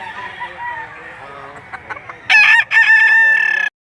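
A rooster crows loudly and close by at a poultry sale in Lipa City, Batangas, two strong bursts following softer clucking and faint background murmur.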